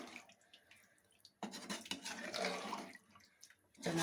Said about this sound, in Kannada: ಈಗ ನಾನು ಮಿಕ್ಸಿ ಜಾರನ್ನು ಏನಿದೆ ಸ್ವಲ್ಪ ನೀರು ತೊಳ್ಕೊಂಡು ಅದನ್ನು ಇದಕ್ಕೆ ಹಾಕ್ಕೊತಾ ಇದ್ದೀನಿ.